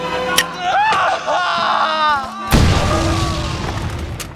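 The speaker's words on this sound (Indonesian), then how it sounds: "Vorobei pun mengeluarkan granat dan meledakkan dirinya sendiri bersama dengan beberapa mujahidin" A grenade explosion bursts suddenly and loudly midway through, after a stretch of tonal sound, then trails off into a rumbling decay.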